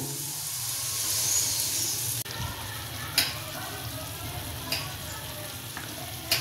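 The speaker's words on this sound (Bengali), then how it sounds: "এবারে ফুটছে জল" Water bubbles and hisses steadily in a hot pan of fried papaya for chutney after a sharp sizzle shifts, with a few clinks of a utensil against the pan.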